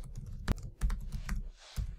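Close, crisp keystrokes on a computer keyboard as a SQL command is typed, a quick uneven run of clicks and taps over about two seconds in an otherwise quiet room.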